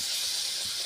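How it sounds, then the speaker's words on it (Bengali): A paratha fries in hot oil, giving a brief, even, steady hiss close by with no other sounds. "পরোটা দিয়ে দিলাম তেলে, এবার ভাজি হচ্ছে পরোটা।"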